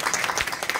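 Brief, steady clapping from the audience at a cricket league opening ceremony, greeting the team owners, a dense patter of many hands at moderate distance.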